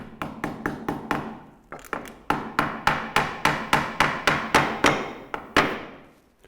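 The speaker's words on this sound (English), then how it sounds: "get your hammer, and we'll just knock that into the frame." A hammer strikes a small tack into a wooden roof-window frame repeatedly, sharp ringing taps in quick steady bursts, close and loud with no talking.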